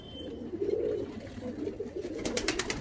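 Andhra high flying pigeons in a loft in West Bengal give low, throaty cooing close by, a rolling murmur rising and falling, with some scuffling and clicking toward the end.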